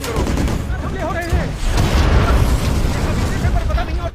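Heavy gunfire and RPG blasts from a war-film ambush on a patrol roll on without a break, with loud booms and crackling shots layered over a dense rumble, while a voice speaks over them.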